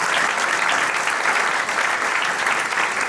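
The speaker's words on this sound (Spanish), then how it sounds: "pedir un fuerte aplauso para los panelistas que estuvieron presentes" An audience applauds the panelists at a summer symposium, a dense, steady wash of clapping that fills the room at full volume throughout.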